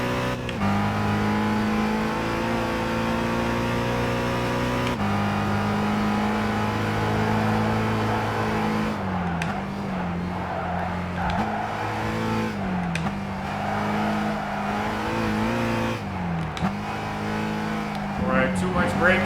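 Race car engine in Gran Turismo 5, droning and revving steadily with pitch shifts as it slows and accelerates through corners, loud and continuous, with someone talking over it.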